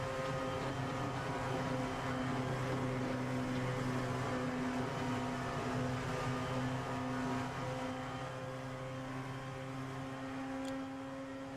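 Racing car engine from a racing game on an oval track, a sustained droning note with steady harmonics that rises subtly as speed builds down the back straight, heard alone without talk.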